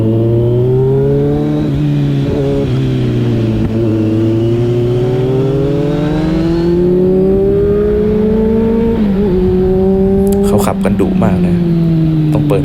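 A Kawasaki Z900 motorcycle accelerates hard on a newly paved village road, its engine note climbing loud and close through the gears with rising and falling pitch, and a brief burst of wind buffeting near the end.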